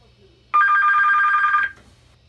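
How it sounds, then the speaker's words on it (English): A DSC marine radio on a vessel being called gives a single steady electronic ring of about a second, loud and close, in an otherwise quiet setting. "on a vessel being called, the ring sounds like this"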